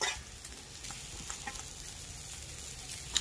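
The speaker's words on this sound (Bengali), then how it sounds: "উচ্ছা ক্যাংড়া ভাজা, ক্যাংড়া ভাজা হচ্ছে" Bitter gourd (uchha) frying in a pan gives a steady, close, broadband sizzle with faint stirring scrapes and a sharp clink near the end, and no voices.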